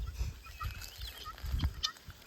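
Guinea fowl during their egg-laying season make harsh, choppy calls in short bursts at moderate distance, fairly quiet, with a few higher chirps mixed in.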